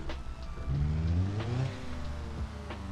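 A fuel-laden truck in BeamNG Drive accelerates on the road, its engine rising in pitch and swelling louder midway before settling into a steady drone, heard alone with no voices.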